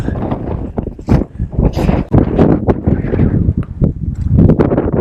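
Gusty wind on the summit of Mount Fuji, above the clouds, buffets the microphone in loud, uneven low rumbles that surge and drop throughout.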